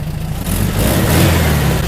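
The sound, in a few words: rebuilt VW 40HP air-cooled engine revving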